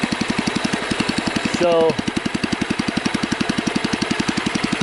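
Husky engine running at higher RPMs with a suspected fuel blockage: a fast, even, near pulsing chug that carries on throughout, briefly masked by a short spoken word partway through.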